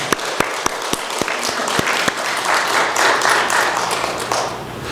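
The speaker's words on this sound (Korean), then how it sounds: "우리 박수 한번 줄까요?" Applause in a church during Sunday worship, beginning with a few sharp, evenly spaced individual claps up close that swell into fuller, denser clapping from the congregation.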